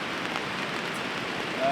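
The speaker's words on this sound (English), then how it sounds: "But right now, I don't think that the rain is gonna stop. It's just pouring." Heavy rain pours steadily on a hot tent at a riverside campsite, a dense continuous hiss that holds even throughout and swells slightly at the very end.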